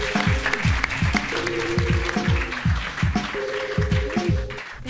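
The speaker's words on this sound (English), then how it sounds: "Please give a round of applause for our panelists and our moderator." An audience at a digital health panel event applauds the panelists and moderator with steady clapping, while a repeated descending tonal chime pattern rings out loudly over the applause.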